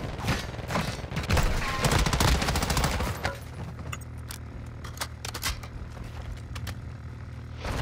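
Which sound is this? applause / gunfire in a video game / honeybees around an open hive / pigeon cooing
gunfire in a video game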